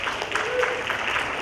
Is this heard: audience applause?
yes